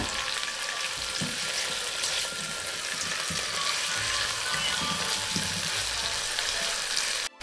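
Mung beans with celery cook in a pot, giving a steady, close hiss of sizzling and bubbling with faint stirring clinks throughout.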